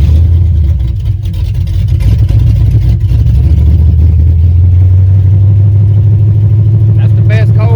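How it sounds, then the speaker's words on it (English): A 1986 Chevrolet Silverado with a swapped 350 Vortec V8, carbureted with the choke connected, makes a cold start: a loud, close engine running and settling into a steady low idle, with a brief whine near the end. "That's the best cold start we've had so far."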